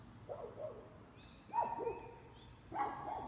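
Several dogs bark and yelp in bursts at a moderate distance, with a few higher-pitched yips among the deeper barks.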